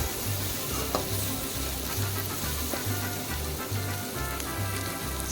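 Onions sizzling and frying in a pan for a Sri Lankan egg gravy, with a loud steady hiss and crackle throughout and a spoon scraping the pan in a regular stirring rhythm.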